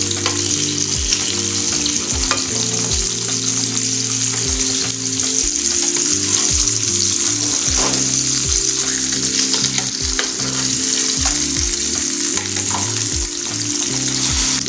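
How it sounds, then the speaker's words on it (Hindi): Fish sizzles steadily on a hot tawa griddle while it fries Lahori style, with a constant loud crackle and repeated low scraping and stirring strokes throughout, no voices. "छः से 7 मिनट तक आपने इसको फ्राई करना है।"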